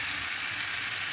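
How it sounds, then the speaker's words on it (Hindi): Chicken pieces frying in a gravy masala, a dense, continuous sizzle heard up close with no voices, steady and unbroken for the whole moment. "अभी चिकन भी डाल दिया। चिकन को भी अच्छा से फ्राई करूँगी।"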